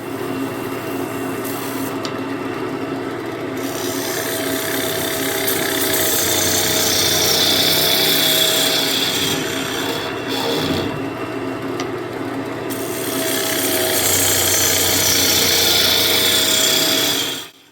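A lathe gouge cuts into a turning maple bowl, giving a steady, loud, continuous hiss and scrape that swells and eases slightly as the tool moves, with a brief dip near the middle before the cut resumes.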